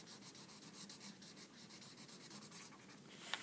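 A highlighter marker rubbed repeatedly across paper while coloring the layers of a structural geology cross-section, a steady close scratchy stroking with no talk.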